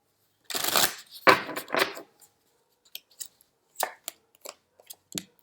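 Tarot cards are drawn and handled during a reading: a brisk riffle and slide of cards up close, followed by scattered soft taps and flicks as cards are placed, with quiet gaps between.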